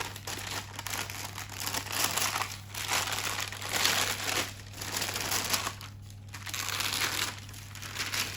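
Beeswax-coated fabric wrap slowly peeled back from one side, a close, steady crackling and crinkling that swells and fades in waves over a low constant hum.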